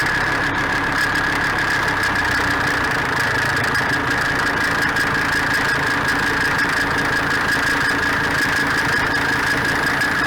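York 210 on-board air compressor running on a diesel Jeep CJ while airing up a tire, a steady loud mechanical drone with a sustained whine and engine vibration, constant and close with no speech.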